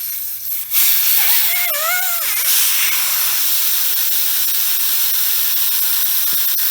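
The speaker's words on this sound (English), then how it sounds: "And let the tire air down." A loud, steady hiss of air rushes out of a tire valve stem with its core removed, sustained and close, with a brief whistling whine near the start.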